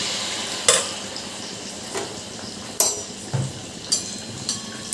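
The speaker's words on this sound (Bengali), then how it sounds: "এবার আমি ওই ব্যাটারটা থেকে এক হাতা তুলে নিয়ে গরম তেলে দিয়ে দিলাম" Palm-fruit malpua batter frying in hot oil: a steady soft sizzle under scattered sharp clinks and scrapes of a ladle against the pan, several distinct knocks spread across the stretch, no voices.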